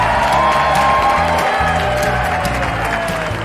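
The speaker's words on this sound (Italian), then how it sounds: "Per accoglierlo con un bel applauso qui oggi sul palco del centro commerciale" Applause and light cheering from a crowd at a shopping-centre stage welcoming chef Joe Bastianich, a continuous, fairly loud clapping wash over a pulsing music bed.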